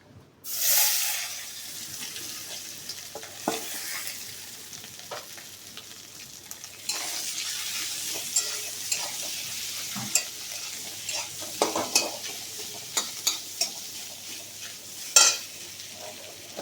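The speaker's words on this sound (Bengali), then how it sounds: "এরকম ভাজা ভাজা হয়ে গেলে ম্যাশ করা আলুটি এর মধ্যে দিয়ে দেব।" Mashed potato goes into a pan of fried soybean with panch phoron and is stirred, a soft continuous sizzle under intermittent scraping and tapping of a spoon against the pan.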